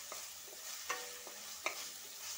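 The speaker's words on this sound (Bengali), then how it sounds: "ভালো করে মশলাটা একটু কষিয়ে নেব।" Spice paste with green chillies is sautéed in a pan for a cabbage curry, a faint, steady sizzle with a few light spatula taps and scrapes spaced through it.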